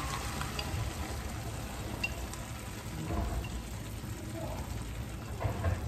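Eggs mixed with milk go into a hot frying pan for a frittata, giving a steady, close, dense sizzle and crackle that holds at an even level throughout.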